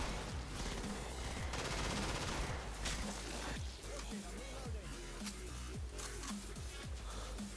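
Gunfire in the Killing Floor co-op video game, Demolition mode: rapid repeated shots crackle loudly and continuously over dense game noise, with voices talking throughout.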